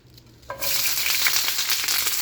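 After a brief quiet moment, chicken and vegetables hit a hot pan and break into a loud, steady sizzle that keeps crackling.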